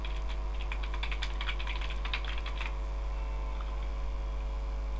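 Quick bursts of keystrokes on a computer keyboard as a file name is typed, close and clear over a steady background hum, then stopping as the hum carries on alone.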